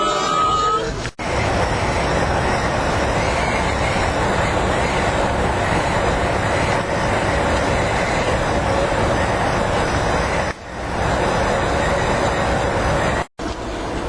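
An Amtrak Sunset Limited passenger train rolls along inside its Texas Eagle section, a loud continuous rumble and rattle of cars on the rails with occasional dropouts, steady throughout and heard from onboard.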